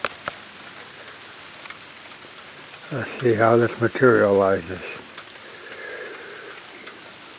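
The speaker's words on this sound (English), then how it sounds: "We got raindrops on the pond." Light rain falls on a pond in a planted food plot during a drought-breaking shower, a steady soft patter of raindrops that continues under a brief passage of speech.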